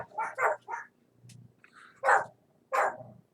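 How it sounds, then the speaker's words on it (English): Several dogs bark in short, sharp bursts nearby, a quick cluster of yaps followed by two louder single barks after a pause, with no talking. "I think those are barks of agreement, by the way."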